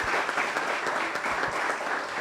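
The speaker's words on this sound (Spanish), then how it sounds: "quisiera pedir nuevamente de nuestro auditorio un aplauso fuerte" Loud applause fills a university auditorium at the close of a keynote conference session, a thick, even roar of clapping from a large audience that sustains without a break.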